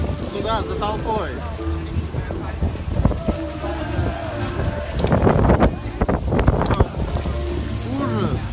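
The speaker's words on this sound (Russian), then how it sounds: "Сильный ветер." Strong wind buffets the microphone in loud gusts at a port, with a crowd's voices talking and chattering nearby throughout.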